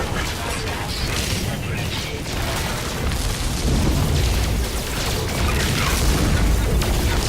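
A space battle in No Man's Sky, with ships attacking a freighter, rumbles with dense, continuous booming explosions and mechanical clatter, loud and layered throughout.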